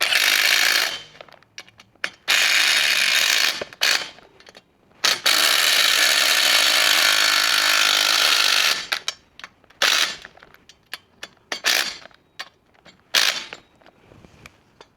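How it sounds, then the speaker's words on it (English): Power tool tightening the four bolts that hold the front basket on an adult electric tricycle, heard as several loud, rapid ratcheting bursts of a few seconds each, separated by short pauses and brief clicks. "So I've got those 4 bolts tight."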